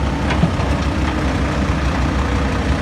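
Truck engine idling with a modified four-muffler exhaust, a steady low rumbling drone held at an even level throughout, close and continuous with no talk.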